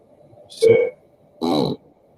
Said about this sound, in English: I burped and I farted at the same time.